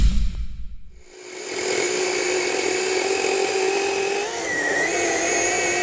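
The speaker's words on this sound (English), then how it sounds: "I've never had a battery-powered chainsaw that could do that." A battery-powered chainsaw running after a short clunk, its electric motor spinning up into a loud steady high whine that holds, dips slightly and continues, with no talking.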